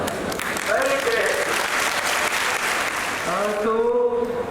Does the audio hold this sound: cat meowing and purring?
no